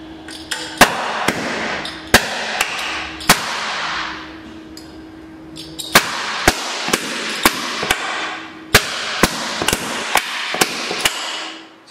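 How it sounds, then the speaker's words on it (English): Gas torch flashback through five check valves on the supply line makes a series of sharp, loud pops and bangs in irregular bursts, with a hissing flame sound between them. "every time that flash went right back through them into the line behind the torch back to the source of supply"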